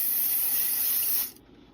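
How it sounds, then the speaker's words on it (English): Cooking spray from a can hisses steadily into a pan before an egg is cooked, one continuous close spray lasting just over a second before cutting off. "I have to spray. This just keeps the egg kind of round."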